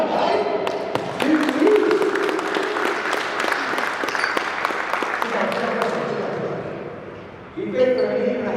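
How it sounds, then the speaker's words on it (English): A group at a basketball coaching workshop clapping together in a sustained burst of applause, close and fairly loud, with a few voices over the top before it tails off and talk resumes. "You give a clap, guys."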